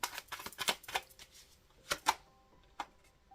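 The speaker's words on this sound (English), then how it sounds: "Let me shuffle." Cards are shuffled in several quick, soft riffling bursts with short pauses between them, close and fairly quiet.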